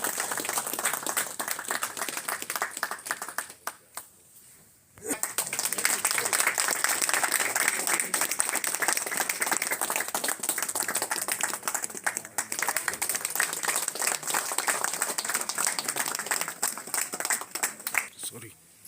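Ongoing applause from the audience at a Delhi event honouring office-bearers of the Indian ex-servicemen bank employees' union, a steady crowd clapping with one brief dip before it resumes, with voices mixed in.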